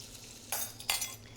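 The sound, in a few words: sautéing onions and vegetables for stew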